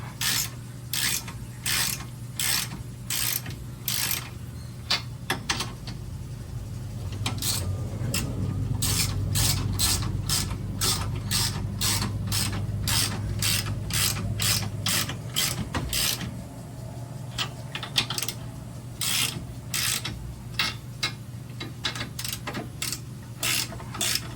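Hand ratchet tightening bolts on a car drive line under an E-Body, rapid close clicking in bursts with pauses, a steadier grinding stretch in the middle.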